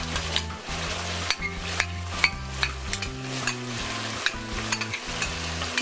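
Blended ingredients going into a pot of stewed goat meat, a close, continuous sizzle and bubbling with repeated stirring scrapes and light clinks against the pot.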